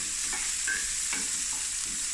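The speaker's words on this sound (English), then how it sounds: "just fry these onions" Onions and garlic fry over medium heat in a pan, a steady close sizzle with a few light stirring scrapes and no talk.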